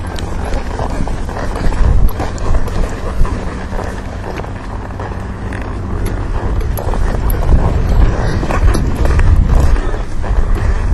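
A horse canters in an outdoor riding lesson, its hoofbeats thudding in a steady rolling rhythm close by under strong wind buffeting, with a voice speaking at times.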